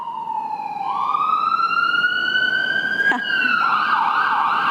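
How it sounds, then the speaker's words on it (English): An ambulance siren passes close by, its rising and falling wail loud and steady, shifting pitch as it goes past, with no one talking over it. "you just heard an ambulance go by"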